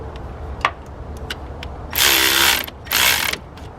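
Ratchet wrench tightening the power steering pump bolts on a 1999-2003 Acura TL, heard as two loud, close bursts of quick clicking, each about half a second long, with a few sharp isolated ticks before them and no talking.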